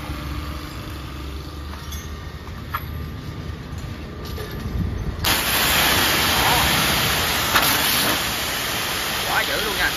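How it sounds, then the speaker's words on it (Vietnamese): An engine-driven high-pressure pump with 18 mm ceramic pistons, rated 200 bar and powered by a 5 to 7 hp motor, runs with a steady loud hiss and rumble that grows louder partway through. Someone talks over it. "máy đang chạy nha anh em. Chạy rất là êm luôn nha."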